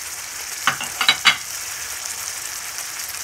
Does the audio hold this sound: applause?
no